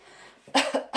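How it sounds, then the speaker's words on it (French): Two or three sharp, close coughs in quick succession after a brief quiet breath. "Aussi, on le sent quand on tousse."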